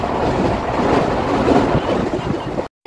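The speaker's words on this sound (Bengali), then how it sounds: "ট্রেনের গতিটা এখন অনেকটাই বাড়িয়ে দিয়েছে" An express train running at speed makes a loud, steady rumble with wind buffeting, heard from on board. It cuts to brief silence just before the end.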